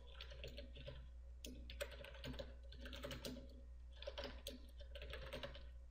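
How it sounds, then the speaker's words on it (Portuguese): Quick bursts of keystrokes on a computer keyboard as a command is entered, clustered in short runs with brief pauses between, soft and close against a low steady hum. "eu vou limpar a tela aqui com CLS e digito o comando aí net branch cache show status"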